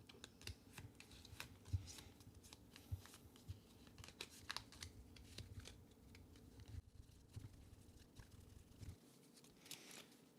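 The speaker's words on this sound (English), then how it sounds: "We're going to shuffle them up." Personality cards from the Earthborne Rangers board game being shuffled by hand, a quiet, close run of papery riffles and taps with irregular bursts, no talking.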